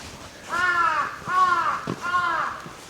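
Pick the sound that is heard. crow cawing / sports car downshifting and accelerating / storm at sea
crow cawing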